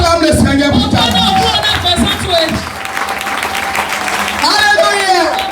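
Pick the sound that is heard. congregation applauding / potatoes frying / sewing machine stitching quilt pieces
congregation applauding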